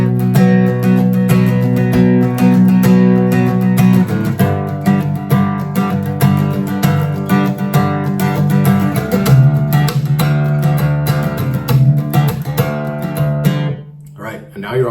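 Acoustic guitar strumming two chords from a song, a steady rhythmic chord pattern played close and loud with sustained ringing tones, fading briefly near the end.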